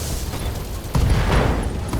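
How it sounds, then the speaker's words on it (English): A BattleTech mech looses a full missile salvo in a video game: a dense rumbling barrage of launches with low booms that swells sharply midway and keeps roaring to the end. "Firing a full salvo."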